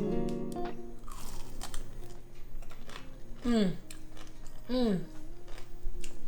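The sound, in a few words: biting into crispy potato chip crusted chicken nuggets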